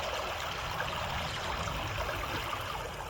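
A winter creek babbling over stones, steady close rushing and trickling water with no pauses, fairly soft and continuous.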